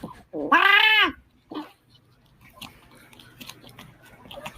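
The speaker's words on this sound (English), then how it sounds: "check out this cat. He's freaking out too." A cat freaking out lets loose one loud, rising-and-falling yowl close by, followed by a short lower cry and then quieter scuffling and faint rustles.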